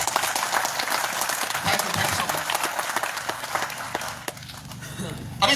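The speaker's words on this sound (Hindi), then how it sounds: "थोड़ा उन्हें जोरदार ताली लगा दिया" An audience at a talk in Kolkata claps loudly and steadily in a dense, continuous burst of applause that thins out briefly near the end.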